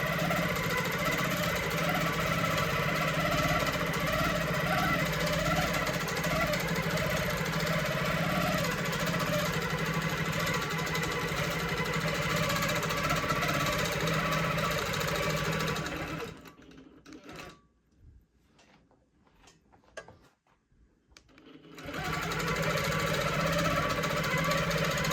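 A QMP 20 longarm quilting machine stitches at a fast, steady mechanical rhythm, loud and close, briefly stopping near the end before whirring back up.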